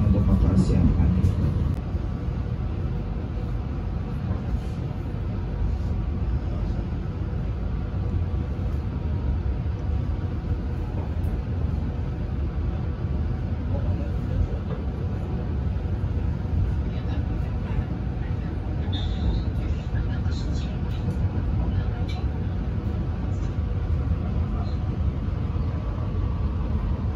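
Riding inside an economy-class Menoreh passenger train from Pasar Senen toward Semarang: a steady, low rumbling roar of the moving carriage fills the whole stretch at an even level, with faint scattered clicks above it.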